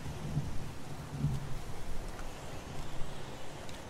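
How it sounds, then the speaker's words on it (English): Steady downpour of rain with rolling low thunder rumbles from the video game Heavy Rain, a continuous hiss throughout with no voices. "It's pouring rain"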